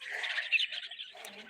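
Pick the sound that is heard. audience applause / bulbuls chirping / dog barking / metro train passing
bulbuls chirping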